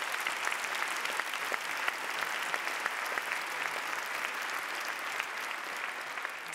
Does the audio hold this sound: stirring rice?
no